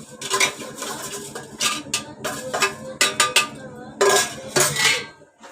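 Cardamom, peanut powder and sesame seeds stirred in a metal pot with a spoon, a series of close scraping and clinking strokes in uneven bursts, loud and alone with no talking.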